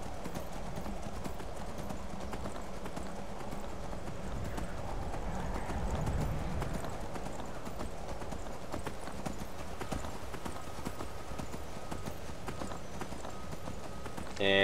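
Steady, rhythmic clip-clop of horse hooves while riding in Skyrim, moderately close and continuous, with faint game ambience beneath.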